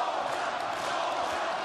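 A boxing arena crowd roars and rallies during a heavyweight bout between Kubrat Pulev and Dereck Chisora, a steady, dense wall of cheering and shouting that fills the hall without pause.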